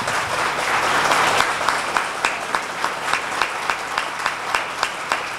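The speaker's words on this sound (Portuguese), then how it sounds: "aplauda o Senhor" A church audience claps for the Lord in a dense, sustained round of applause with a few sharper individual claps standing out near the end, fairly loud and close, with no talking.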